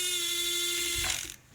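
Converted Tamiya remote-control forklift raising its boom: a close, steady mechanical whir with a ratcheting gear tone that stops abruptly near the end, short and alone.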